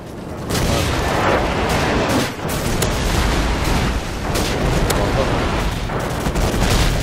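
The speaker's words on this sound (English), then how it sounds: "Friendly airstrike on the way!" Airstrike explosions and gunfire in Call of Duty 4, a dense stretch of rumbling booms and crackling shots that runs loud and almost continuous for several seconds, with a player talking over it.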